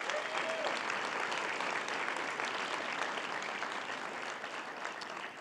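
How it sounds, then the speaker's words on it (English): A round of applause at a girls and women in sports awards luncheon honoring middle school winners, continuous steady clapping from a large room, moderately distant and sustained throughout. "Let's give a round of applause for Sierra Middle School winners."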